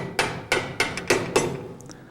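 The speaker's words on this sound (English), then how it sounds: "you grab a hammer and you tap on it" Five sharp hammer taps at a steady rhythm, roughly a third of a second apart, close and fairly loud, loosening the microswitch cam on an old-style skeet machine, followed by a couple of faint lighter knocks.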